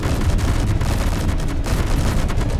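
Another explosion in the video game Space Engineers sounds amid ongoing gunfire as a loud, unbroken roar of rapid blasts and booms, heavy in the low end and free of speech.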